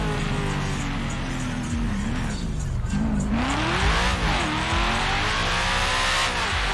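A car in GTA 5 revs and accelerates hard, its engine pitch sweeping up and down through several surges with tire squeal and road noise, loud and continuous, with faint voices underneath.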